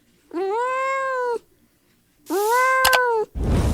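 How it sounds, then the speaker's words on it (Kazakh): A cat in a children's animal-sounds cartoon gives two long, clear meows separated by a pause, close and loud, with a short burst of other sound at the end. "Мысық."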